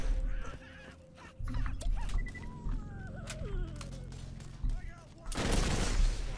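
Video game gunfire in Borderlands while shooting barrels, a rapid sputter of shots with a loud bursting blast near the end, mixed with a speaking voice and assorted game effects.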